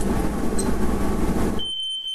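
A loud, steady broadband noise with a smoke alarm's high-pitched tone emerging near the end as the rest drops away.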